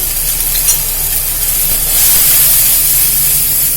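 Spice powders, curry masala and chili powder, frying in a pan with oil while cooking a karamani (black-eyed pea) masala, a steady loud sizzle and hiss without pause, close up.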